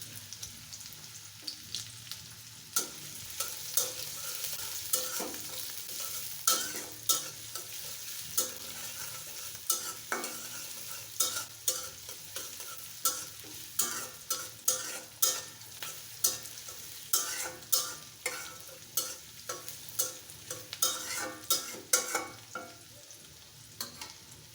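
Chopped onion fries in a pan for a pui fruit bhaji, with a constant soft sizzle broken by regular scraping strokes of a spatula stirring throughout.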